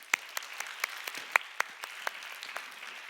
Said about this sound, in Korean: 우리 저 친구들을 위해서 박수 좀 하겠습니다.